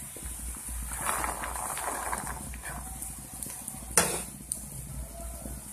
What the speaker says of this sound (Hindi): इसको अच्छी तरीके से हम चलाएंगे ताकि मटर हमारे पक जाए